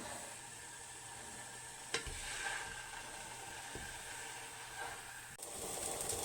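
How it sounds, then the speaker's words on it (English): A steady, quiet sizzling hiss of Jack Daniels glaze sauce simmering in a pan, starting to burn, continuous throughout with a couple of faint clicks. "It's starting to simmer now. You can hear it burning."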